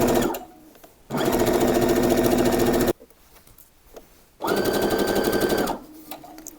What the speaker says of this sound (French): je couds tout autour à 1 cm du bord